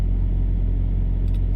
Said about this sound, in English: I like the sound of the engine. I like the sound of traffic going by